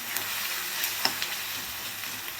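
Onions frying in a pan for a masoor vegetable curry, giving a soft, steady sizzle with a few faint stirring clicks, heard alone at low level.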